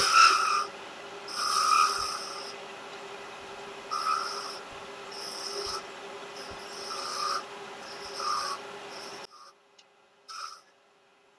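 A skew chisel cuts a small spear point into wood spinning on a lathe, with short rasping, scraping bursts repeating every second or two before the cutting stops and only faint, quiet shop noise remains.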